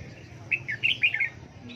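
Songbirds at a caged bird market give several quick bright chirps and short trills close by, clustered in the middle over a quiet background.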